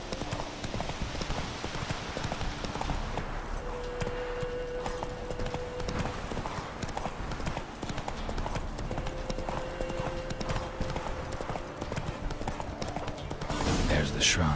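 Horse hooves clip-clopping steadily at a walking pace in The Witcher 3 video game, with a continuous ambient game soundscape underneath and a brief tonal hum mid-way; moderate level throughout.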